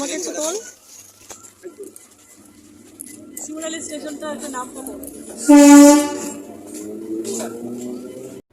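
A train at Shimurali railway station, with a brief, loud horn-like blast around the middle amid steady station background noise, while people talk nearby throughout.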